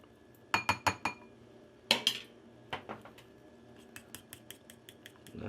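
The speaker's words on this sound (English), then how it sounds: "Get this mixed in. This is going to take about 2 minutes of stirring to get it to like a cake-like batter." A spoon clinks and scrapes against a bowl while stirring cocoa powder into brownie cookie batter, with bursts of quick rhythmic taps followed by lighter, sparser clicks, close and without talk.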